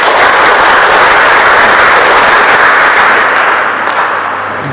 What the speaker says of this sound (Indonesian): Kita tepuk tangan bersama untuk hasil ini.